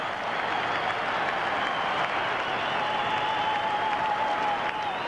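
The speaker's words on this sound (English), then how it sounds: "and the crowd are clapping now." A large football crowd at the MCG claps during a Richmond versus Fremantle match, a broad, distant, steady roar of applause heard through a television broadcast with a faint tone running across it.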